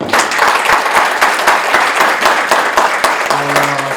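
Audience at a youth leadership forum in Korea applauds a guest politician, a loud, dense, steady wash of many hands clapping close by for several seconds, with a faint voice entering near the end.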